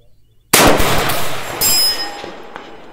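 A single loud, close rifle shot from a Kalikey bolt-action AR cracks out, followed a second later by a bright metallic ring of a struck steel target that lingers and fades.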